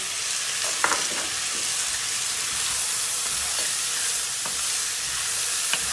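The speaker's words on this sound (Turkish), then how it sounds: "Domatesi şöyle bir karıştırıyoruz." Tomato stirred into toasted vermicelli in a pan sizzles and fries steadily, with a few soft scraping stirs and clicks from the spoon against the pan over the continuous hiss.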